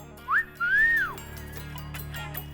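A man gives a two-note wolf whistle at a woman at a roadside water stall: a short rising chirp then a longer swooping tone, clear and close.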